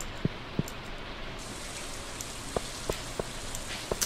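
Steady rain hiss from Stardew Valley, a soft even wash of rainfall with a few scattered clicks and taps over about four seconds, no voices.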